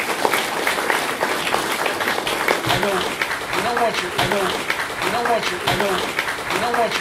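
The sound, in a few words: applause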